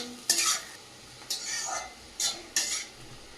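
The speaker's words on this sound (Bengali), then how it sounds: "সবজিটা খুব সুন্দর করে ভেজে নিয়েছি এই পর্যায়ে দিয়ে দেবো কাজু আর কিশমিশ দিয়ে ভালো করে ভেজে নেবো" Vegetables frying with cashews and raisins for a festive Bengali meal, four sharp bursts of stirring and scraping in the pan over a soft steady sizzle, close and moderately loud.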